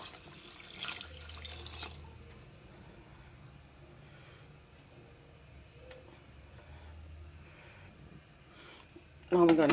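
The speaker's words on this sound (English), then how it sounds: "Now I'm gonna add some water to pressure." Water runs from a tap into a pressure cooker holding stew beef for Jamaican rice and peas, a steady rushing stream near at the start that eases into a faint trickle, ending in a sharp louder clatter.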